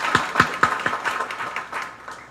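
A small audience at a university white coat ceremony gives a short round of applause: a few sharp, fairly close claps that quickly thin out and fade within a couple of seconds.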